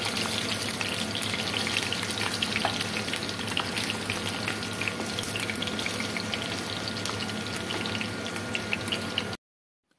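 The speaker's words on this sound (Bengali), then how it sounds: "তাই আলুগুলোকে লাল লাল করে ভেজে নিলাম" Potatoes fry in a pan until browned, giving a steady, fairly quiet sizzle with crackling pops throughout and no voices, cutting off just before the end.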